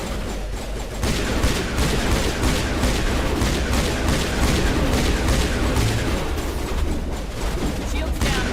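Heavy, sustained weapon fire from a Mass Effect firefight, with dense, rattling bursts and booming impacts piling into a loud, continuous barrage that barely lets up after the first second.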